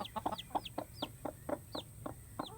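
A mother hen clucks beside her newly hatched chick in a coop, giving short soft clucks in a steady, close rhythm with thin high chirps mixed in.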